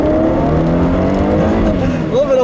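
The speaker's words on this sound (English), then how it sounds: "I'll leave you guys with a nice little acceleration here, even though it's raining" A Ford Mustang V6 on wet pavement, engine droning loud and close as it accelerates with a rising tone, rear wheels spinning in the rain.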